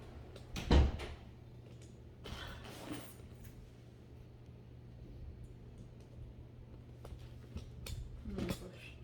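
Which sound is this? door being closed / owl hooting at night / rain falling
door being closed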